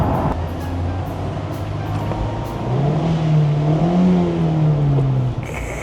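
A Mazda Roadster 35th anniversary edition's engine revs hard and close, its droning note rising in pitch through a long climb before cutting off abruptly near the end.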